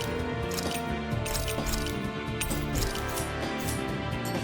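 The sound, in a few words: hammers banging on metal in Tales of Arise video game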